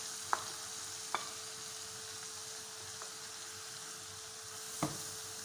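Shredded cabbage kottu being stirred in a frying pan, with a quiet steady sizzle broken by a few sharp scrapes and clinks of the utensil against the pan, heard close with no talk.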